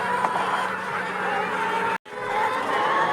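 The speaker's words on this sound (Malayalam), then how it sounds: "ഇവിടെ 23 കോഴികളാണുള്ളത്." Laying hens, older egg-laying birds kept in a small poultry farm, cluck and call together in a steady busy chorus close by, with one brief cut of silence midway.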